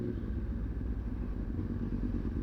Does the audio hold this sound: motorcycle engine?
yes